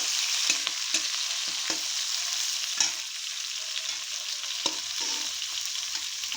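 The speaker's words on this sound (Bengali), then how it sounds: "আলু আর বেগুন একসঙ্গে দিয়ে ভালো করে ভেজে নেব।" Potato and eggplant frying together in a pan produce a steady, close sizzle broken by a few sharp spatula taps and stirring clicks, with no voices.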